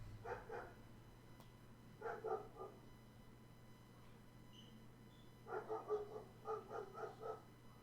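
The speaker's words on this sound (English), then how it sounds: "That dog's loud." A dog barks in the background in several bursts of quick, repeated yips, distant and faint over a low steady hum, with no talk.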